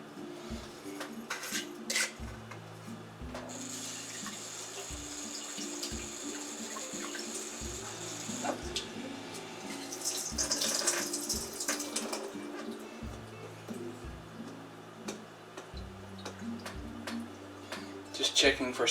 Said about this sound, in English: It's bedtime, so I'll rinse these again now.